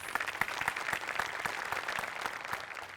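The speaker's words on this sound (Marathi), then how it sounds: "त्याच्यासाठी तुझ्यासाठी टाळ्या वाजल्या पाहिजे" A studio audience at a Marathi comedy sketch show claps together in steady, dense applause, moderately distant, with no talk over it.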